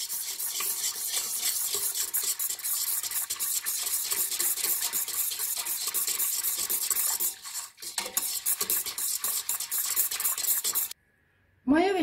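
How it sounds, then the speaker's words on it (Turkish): Warm milk with yeast and sugar whisked briskly in a bowl, a continuous rapid scraping and clinking close by, briefly pausing near the end, with no talking. "Maya ve şeker eriyinceye kadar çırpıyoruz arkadaşlar."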